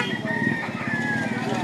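A rooster crows over a busy chicken market where other fowl cluck, its drawn-out harmonic call steady across a short stretch, with market murmur in the background.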